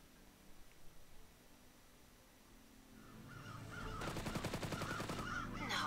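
Crows caw in the video game Iron Wings, a few faint calls at first, then loud harsh repeated cawing that swells in the last couple of seconds over a low background hum.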